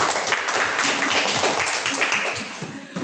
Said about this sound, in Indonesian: Baik, tepuk tangan untuk Elsie.